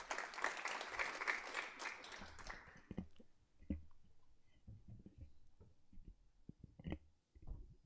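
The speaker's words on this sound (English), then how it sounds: "A round of applause" Applause from the audience at the inaugural ADR Lawyers Symposium 2026 in Sri Lanka, a dense burst of clapping for about three seconds that fades into scattered room noise and faint movement.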